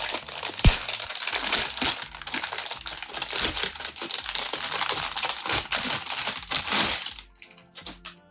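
Plastic wrapping crinkles and crackles as it is pulled off a new, heavy RTX 4060 Ti graphics card, a close, busy rustle lasting about seven seconds before it quiets.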